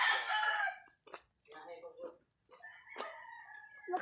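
A rooster crows at a chicken coop by a house, one long strained call at the start followed by a shorter crow, with softer clucks and fowl noises in between.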